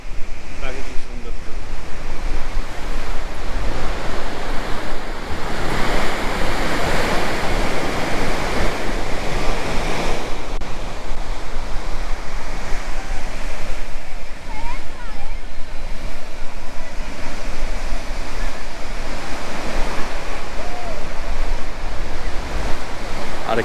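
Ocean surf at Golden Beach in Puri, with waves washing and breaking in a loud continuous rush, wind buffeting the microphone and faint beach voices underneath.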